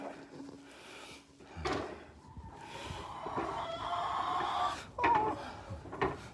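Backyard hens cluck and call softly around an egg harvest, with intermittent bursts and a rising squawk near the end amid faint rustling.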